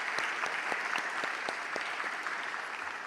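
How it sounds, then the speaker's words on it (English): An audience claps at a high school People's Choice awards evening, a sustained round of applause from a crowd indoors, steady for the whole stretch. "Give them a round of applause."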